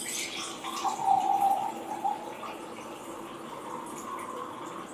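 Alkaline water is poured into a glass holding oil, a faint trickling fill that swells briefly and then settles into a soft, steady splash.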